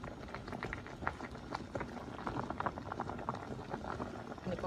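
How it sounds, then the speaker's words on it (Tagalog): Tomato soup bubbles in a pot on the stove, a steady soft stream of popping bubbles at close range, with faint voices in the background. "I-boil natin yan, guys, ng isang oras."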